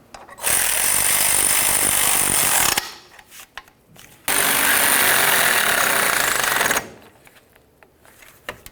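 Power tool running down exhaust manifold bolts on a 2006-2012 Ford Fusion, two loud close bursts of rattling impact whirring of about two and a half seconds each, separated and followed by quieter clinks and handling noise.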